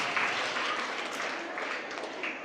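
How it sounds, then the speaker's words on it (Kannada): Applause from a seated crowd at a village speech event, steady dense clapping throughout, fairly close and loud with no talk over it. "ಚಪ್ಪಾಳೆ ಹೊಡ್ರಿ."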